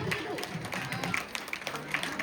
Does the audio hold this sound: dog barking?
no